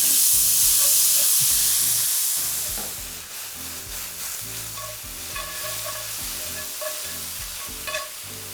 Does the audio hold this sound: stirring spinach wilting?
yes